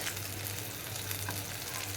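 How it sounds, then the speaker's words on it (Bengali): Tilapia fish fries in hot oil in a home kitchen, giving off a steady, dense sizzle and crackle that holds constant with no voices, a low hum beneath it. "এখন আমি করছি তেলাপিয়া মাছ ভাজা"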